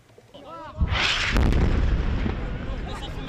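An Israeli strike in Rafah sets off a heavy explosion, a sudden deep boom that swells into a long rumbling roar and slowly fades, following a few faint sounds before it.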